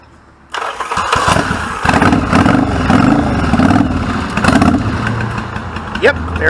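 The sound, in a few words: 1986 Yamaha Virago motorcycle engine starting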